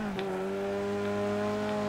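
A muscle car engine in Next Car Game holds a steady, droning rev with a rising whine, loud and close throughout, with no voices over it.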